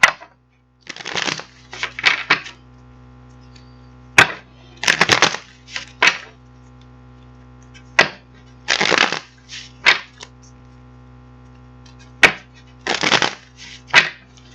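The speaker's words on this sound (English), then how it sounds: "So we're going to get this deck shuffled up" Tarot cards riffle-shuffled in several quick, crisp bursts separated by short pauses, close to the microphone over a faint steady hum.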